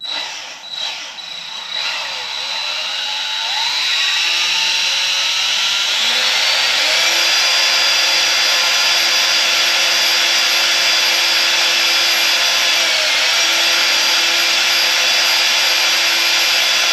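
Handheld drill spinning a wad of Scotch-Brite to scrub rust from a part on a Sinnis Heist 125 hardtail chopper, a close, loud whine that starts after a brief rattle and holds steady and shrill for over ten seconds.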